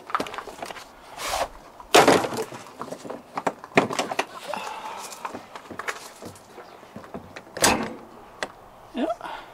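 An RV screen door is handled several times, with sharp clacks and thuds of it opening and shutting, mixed with light footsteps and rustling nearby.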